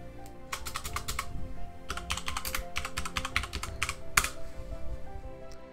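Fast typing on a computer keyboard, bursts of close, crisp key clicks with short pauses between words, alone without talk.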